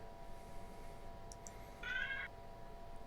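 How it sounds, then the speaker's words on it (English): A house cat gives a single short, high meow near the middle, heard faintly over a steady hum and room noise, with a few light clicks before it. "Was it your cat?"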